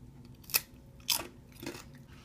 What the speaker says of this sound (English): let's try Garden of Eden blue corn tortilla chip.